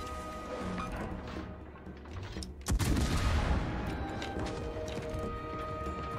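Naval guns on a warship in World of Warships fire armor-piercing shells: a deep heavy boom with crashing impact, then a rumbling sustained roar under a mechanical hum, moderately loud, no voices.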